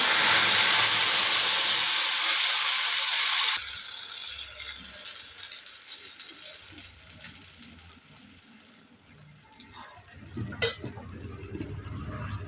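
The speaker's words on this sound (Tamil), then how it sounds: "இப்போ இதை அரைச்சதை இதில் ஊற்றிக்கோங்க" Ground spice paste is poured into a hot pan of oil with cinnamon, cardamom and curry leaves for a cashew thokku, giving a loud, close hiss for about three seconds that settles into quieter sizzling and stirring.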